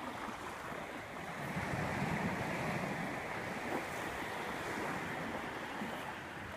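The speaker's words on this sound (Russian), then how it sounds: "Вот он как выглядит, Тихий океан." Pacific Ocean surf breaks along the Sakhalin coast, a continuous roar that swells and ebbs, mixed with rumbling wind buffeting the microphone.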